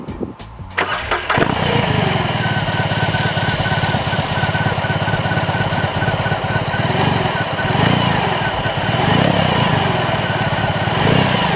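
A BMW R18 First Edition motorcycle engine starts, then runs at a loud, steady, throbbing idle close by, with slight swells as it continues.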